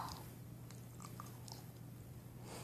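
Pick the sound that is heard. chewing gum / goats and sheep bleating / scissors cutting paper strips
chewing gum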